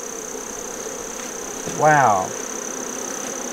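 A dense, steady hum of honey bees swarming around their hive, close and continuous throughout, with a short exclamation voiced over it midway.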